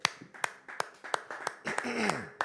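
Congregation at a French-language church service clapping together in a steady rhythm, sharp hand claps spaced about every third of a second, with voices and a rising shout mixed in underneath.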